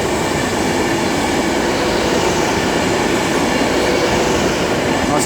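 The electric train City of Lancaster moves through London Euston on the West Coast Main Line with a loud, steady rolling rumble and wheel noise filling the whole stretch, close by and unbroken.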